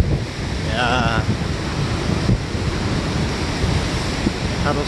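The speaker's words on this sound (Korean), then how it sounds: "파도 소리가, The sound of waves." Ocean surf rolls in steadily along an East Sea coastal walking path on a morning walk, a broad continuous wash heavily buffeted by wind noise on the microphone.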